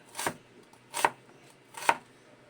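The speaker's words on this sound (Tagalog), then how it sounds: "Siyempre, samahan natin ng sibuyas," Three sharp knife chops through onion on a cutting board, evenly spaced about three-quarters of a second apart, close and crisp against a quiet kitchen background.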